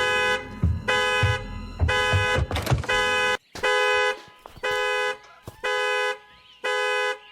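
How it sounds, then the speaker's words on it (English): Car alarm sound effect from the Hello Neighbor Reborn video game: a loud, repeating electronic tone blaring in regular bursts with short gaps, about eight pulses, with some rumbling clatter under the first few. "I actually used the exact car alarm sound effect from the Devgam animation"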